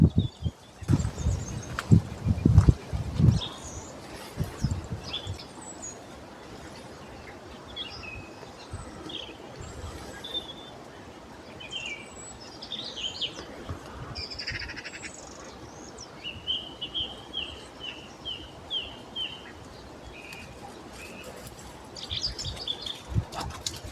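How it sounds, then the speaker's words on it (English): Birds sing outdoors on a walk, scattered chirps and tweets repeating through the stretch at moderate distance, with some brief louder rustling and footstep-like noise early on and no talk. "Let's listen to some birds."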